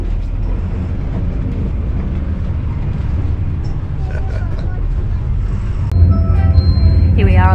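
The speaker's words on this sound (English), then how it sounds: "Here we are on the bus. Very comfortable, air conditioned, lots of seats." Steady low engine drone and rolling rumble from inside an air-conditioned city bus in Phnom Penh, Cambodia, continuous throughout with a louder surge near the end and a faint high squeal.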